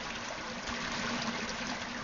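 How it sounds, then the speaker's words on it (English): Water streaming around an abandoned church and holy well in rural Denbighshire, a steady close rushing trickle that stays even and continuous throughout with no voices. "Water streaming all around us."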